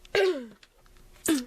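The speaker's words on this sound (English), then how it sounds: "I just had to cough there" A single person coughs twice while making a paper pinwheel, two short harsh bursts about a second apart, close and fairly loud, with a quiet pause between them and no talking.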